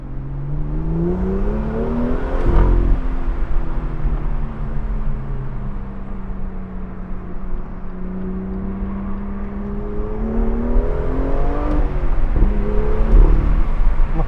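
A BMW F87 M2 on the move, its engine droning and rising and falling in pitch with throttle, turbo whir and faint clicks from the drivetrain, heard from inside the car without talk.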